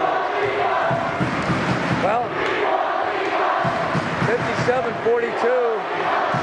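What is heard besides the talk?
basketball crowd yelling and chanting for Parker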